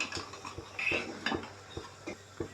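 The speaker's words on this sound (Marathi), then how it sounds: "आणि मसाल्याला तेल सुटेपर्यंत आपण फिरवत राहूया" Egg curry masala gravy is stirred in a pan, a spoon scraping and tapping the metal in quick, irregular strokes, quiet and close with no talking.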